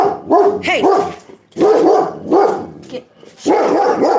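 A dog barks at another dog in repeated loud, close bursts of harsh, whining barks, with a person talking over and between them.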